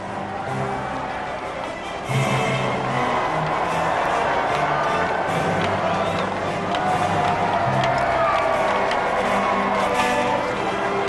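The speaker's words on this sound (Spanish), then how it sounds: "La ovación se incrementó cuando se acercaban a las puertas de palacio" A large crowd cheers and roars continuously as a royal carriage approaches the gates of Buckingham Palace, the sustained ovation swelling louder partway through amid a dense outdoor hubbub.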